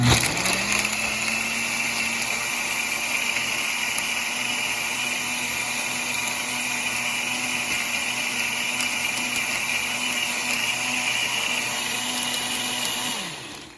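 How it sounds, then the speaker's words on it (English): A blender blends a shake with a loud, steady high-speed whine that runs without a break for about thirteen seconds, then winds down abruptly. "literally just the quickest blender"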